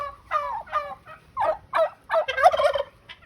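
A farm turkey, raised for Thanksgiving, gobbling in a run of quick, warbling bursts. There are several rapid calls with brief pauses between them, close and clear, with a quiet background and no talk.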